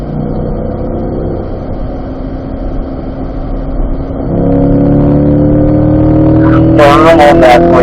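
Race car on a track, engine loud and steady with a pitch rise as it accelerates, then shifts and sustained revving, a brief tonal squeal near the end suggesting braking or tyre noise.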